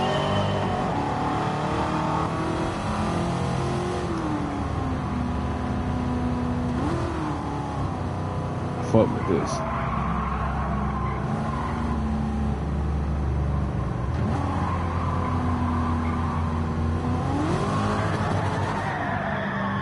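Car engine in a racing video game revving and accelerating, a steady droning roar with rising pitch sweeps as it shifts gears and some tire squeal, continuous and fairly loud, with a short spoken remark partway through.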